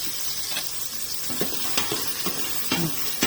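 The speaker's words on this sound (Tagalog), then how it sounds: "Ginigisa ko kasi talaga yan" Green chili and tiger shrimp sauté in a hot pan, a steady loud sizzle with a spatula scraping and stirring in repeated strokes, no voices.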